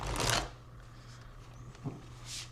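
A deck of cards riffled in one quick burst at the start, followed by a faint soft tap and a quiet hush of handling.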